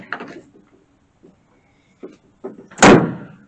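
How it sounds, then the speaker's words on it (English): A truck door is pulled shut and latches during a pre-trip inspection, giving one loud, close slam after a few faint knocks and clicks. "We can check our door latches"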